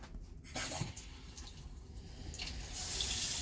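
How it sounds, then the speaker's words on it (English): A bathroom sink faucet runs with cold and then hot water, a steady broadband rush of flowing water that starts after a brief quiet moment and grows louder and fuller toward the end, with no talking. "Cold water comes out. Hot water comes out."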